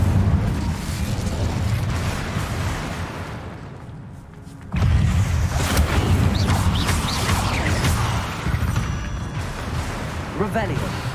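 In Hogwarts Legacy, an Incendio fire spell erupts with deep, booming rumbles and crackling bursts, loud and sustained, a brief dip then a renewed blast, with a voice talking over the game sounds.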